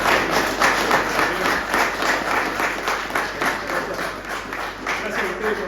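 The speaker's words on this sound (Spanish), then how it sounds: "Sugiero entonces un fuerte aplauso entonces para" An audience at a history book launch applauds steadily, a dense, close wash of many hands clapping that holds at an even level for several seconds.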